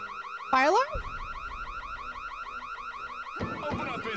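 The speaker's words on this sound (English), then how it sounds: "Fire alarm?" A fire alarm in a Nancy Drew video game gives a loud, steady electronic whooping wail that repeats in quick cycles. A voice briefly breaks in near the start, and other sounds build near the end.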